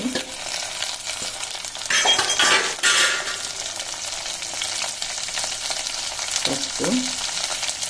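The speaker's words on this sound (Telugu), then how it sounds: "రుచికి సరిపడినంత ఉప్పు వేసుకొని టమాటా బాగా వేయించుకోవాలి" Tomatoes with onions and curry leaves frying in a pan give a steady bright sizzle, with a spoon clinking and stirring through it and brief scraping bursts; a voice speaks briefly.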